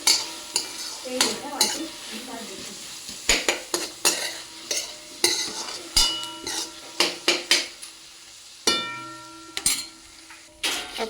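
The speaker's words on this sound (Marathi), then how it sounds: "इथे हा असा कांदा परतत आलेला आहे आपला चांगला भाजत आलेला आहे" Onion sautéed in a pan, with repeated loud scrapes and clanks of a metal spoon stirring against the pan over a soft, continuous sizzle, close by and with no talking.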